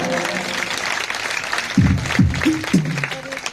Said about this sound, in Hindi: एक बार जोरदार इनके स्वागत के लिए ताली बजा दो